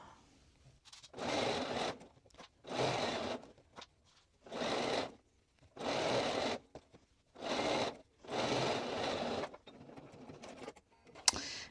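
A sewing machine stitches a pant hem in about seven separate bursts of whirring, each a second or so long, with short quiet pauses between them as the fabric is adjusted.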